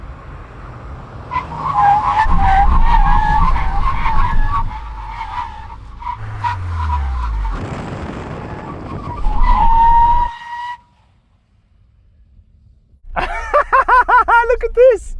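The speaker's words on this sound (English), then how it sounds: "When we reach the cones, full emergency stop." A Volkswagen Golf GTI brakes hard from 100 km/h in a full emergency stop, tyres squealing and skidding loudly over an engine drone for several seconds, then quiet before voices speak near the end.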